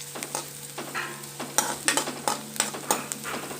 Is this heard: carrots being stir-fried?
yes